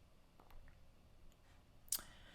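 A single sharp mouse click while selecting the basic Shopify plan, crisp and close against a quiet room background.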